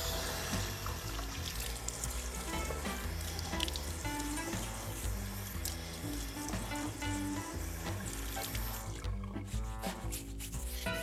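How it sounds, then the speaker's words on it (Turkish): Cold tap water running and splashing as a face is washed at a sink before shaving, a steady rushing flow with rubbing and splashing throughout. "Şimdi yüzümü soğuk suyla yıkayıp tıraş öncesi kremi sürerek başlıyorum."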